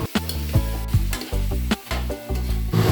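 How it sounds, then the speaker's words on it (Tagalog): Garlic and onion sauté in a pan with uneven bursts of sizzling and repeated stirring scrapes that carry a ringing, tonal edge; close and fairly loud, with no talking. "tamang gisa-gisa lang hanggang sa magganyan yung texture ng bawang at sibuyas mo"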